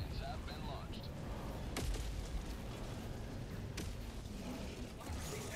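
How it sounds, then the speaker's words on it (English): Explosions landing in the video game Helldivers 2, heavy booms and blasts scattered over a constant low rumbling din with sharp hits near two and four seconds, and a voice talking faintly underneath. "Yeah, there's still explosions landing."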